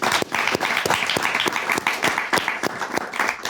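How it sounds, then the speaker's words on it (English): Audience applause for the guests of a student finance panel, a steady wash of clapping with distinct individual claps throughout, fairly close and moderately loud, with no talk over it. "let's clap it up one more time for our guests"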